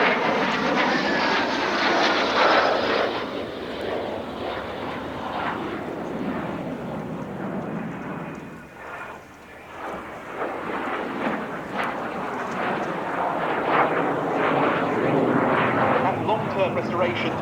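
Restored vintage military jet in 203 AFS markings flying at the Duxford autumn air display, a loud sustained roaring rush that dips briefly midway then swells again, with a commentator talking over it.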